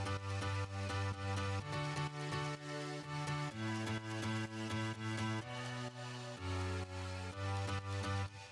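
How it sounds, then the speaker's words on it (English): Sustained piano chords held through each bar in a dance track, steady and full, shifting chord every couple of seconds with no voices. "The piano sounds like this."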